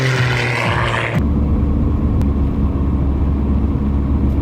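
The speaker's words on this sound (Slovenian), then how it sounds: "Mislim, da je avion za mano prišel." Airplane passing close behind outdoors, a loud broadband engine rumble that swells and roars steadily with a deep low drone throughout.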